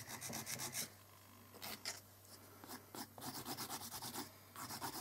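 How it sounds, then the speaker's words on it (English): An artificial nail is filed with quick, close, rhythmic back-and-forth rasping strokes in short bursts, separated by a couple of brief pauses, under a steady low hum. "And when you do file it, it is very easy to file."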